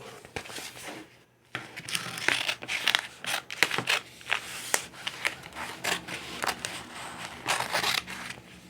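Transfer tape for vinyl stickers is handled and cut with scissors, giving a series of close, crisp snips, crinkles and rustling scrapes, fairly quiet, after a brief silent gap near the start.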